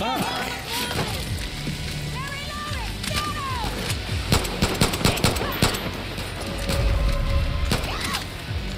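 Rapid bursts of automatic and single gunfire in the shooter game Far Cry New Dawn, loud and repeated in clusters amid chaotic combat noise, with people talking over it.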